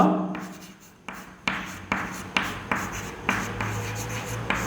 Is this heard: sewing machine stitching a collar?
no